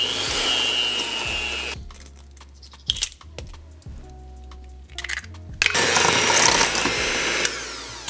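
An electric hand mixer whirs loudly as it beats an egg into keto cake batter sweetened with Swerve, running steadily, pausing briefly with clinks and taps in between, then starting up again at full roar.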